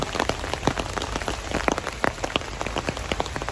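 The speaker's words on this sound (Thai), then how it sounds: "ฝนตก ฝนตก" Steady rain falls close by, with dense patter and sharper drops striking a hard surface throughout, no voices present.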